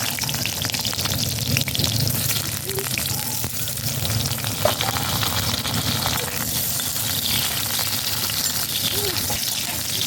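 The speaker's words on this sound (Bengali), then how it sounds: "এবার আমি আলুগুলোকে ভেজে নেব।" Potatoes frying in oil in a home kitchen, a steady loud sizzle with crackling and occasional stirring scrapes, continuous and close.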